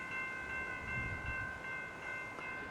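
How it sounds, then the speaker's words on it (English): A train passes the active level crossing at Beaconsfield station with a low rumble under steady sustained tones, likely from the crossing signals, at a moderate, even level with no talk. "So we'll have a look at the train that comes past."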